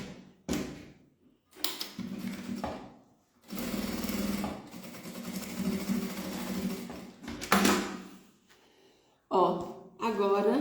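A sewing machine stitches a seam on a travel case lining in short and longer bursts, running steadily and close by, with pauses between runs and someone speaking Portuguese around it.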